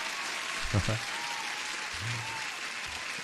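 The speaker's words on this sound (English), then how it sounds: "One more applause" Applause rustles continuously in the background while a voice speaks briefly over it.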